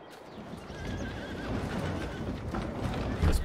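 Horses neigh in a pasture in Farming Simulator 22, a clear wavering whinny rising over soft hoof clip-clops and ambient barn noise, moderately close and without talk.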